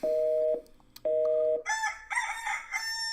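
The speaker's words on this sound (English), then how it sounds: "We don't need no fucking roosters." A rooster crowing sound effect: two long, steady tonal calls followed by a bright, harmonically rich crow, loud and close with no talking.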